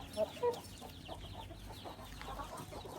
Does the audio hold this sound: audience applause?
no